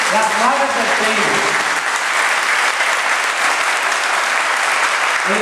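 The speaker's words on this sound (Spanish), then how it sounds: "Y yo quiero un fuerte aplauso para ustedes, las madres del Seibo." Loud, dense audience applause fills the whole stretch, a steady wash of many hands clapping at a Mother's Day gift-giving event honoring the mothers of El Seibo, with a voice briefly audible underneath at the start.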